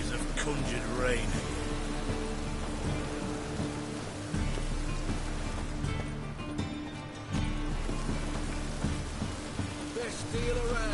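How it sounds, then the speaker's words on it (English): Steady rain hisses in the background of The Witcher 3: Wild Hunt while someone talks over it, with occasional hoof-like clops and ambient bustle mixed in. "Witches have conjured rain."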